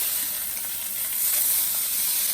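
New York strip steak sizzles in butter in a pan, a steady close hiss of frying that stays loud and unbroken throughout, with no voices.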